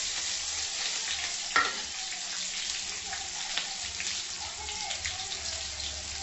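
Onion and curry leaves fry in a ghee tempering for palak dal, a steady close sizzle with stirring scrapes and one sharp clank, running throughout with no talk.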